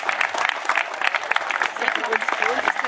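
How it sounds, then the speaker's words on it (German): Dense applause from a crowd at a school triathlon award ceremony, honouring the Lessing-Gymnasium team, a steady wash of many hands clapping close by, holding even throughout. "einen ganz dicken Applaus für euch!"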